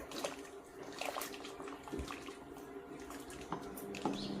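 Water at a rolling boil while sorghum (jowar) paste, with a little wheat paste, is added bit by bit for pali papad; soft, quiet bubbling and gurgling with a few faint splashes, no talk.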